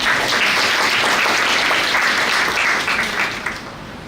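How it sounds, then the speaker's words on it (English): Audience applause at a university event, a dense sustained wash of many hands clapping from a crowd, loud and even for several seconds before easing slightly at the end. "give you a big applause really"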